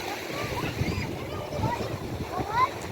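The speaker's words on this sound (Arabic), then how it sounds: "استمتعوا يا جماعة بمنظر البحر وبالهواء وبالجو وبصوت المية" Sea water and waves wash continuously at an Alexandria beach, with wind rumbling against the microphone and a soft, steady surf wash throughout.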